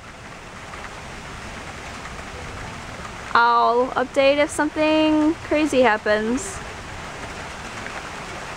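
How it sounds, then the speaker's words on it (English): Heavy rain from an Ohio storm pours down as a steady, dense hiss throughout, with a person speaking over it partway through. "You could hear the rain coming"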